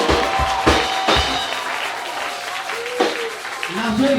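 A church congregation claps and cheers in acclaim for Jesus during a Monday miracle worship service, with steady applause and crowd noise running under a preacher's voice.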